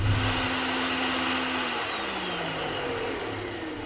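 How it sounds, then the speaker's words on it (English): Blender motor whirring steadily through tomatillos for tomatillo salsa at a Baja California camp, a loud continuous drone with a slight pitch drop partway through, no voices. "Time for the blender."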